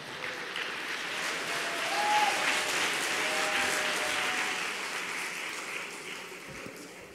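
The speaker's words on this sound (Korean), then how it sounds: "따뜻한 박수로 맞이해 주시기 바랍니다." Warm, sustained applause from a seated audience welcoming a trainee to the stage to give a testimony, a dense, even wash of clapping that swells slightly midway and runs unbroken for several seconds.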